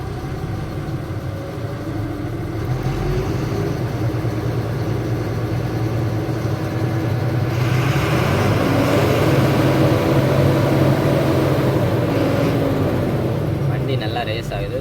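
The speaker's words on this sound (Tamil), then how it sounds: "வண்டி ரேஸ் ஆகிறது பாருங்கள்." An Ashok Leyland lorry's engine revs, a steady low diesel rumble that swells louder and rougher about halfway through, with a voice faintly audible over it.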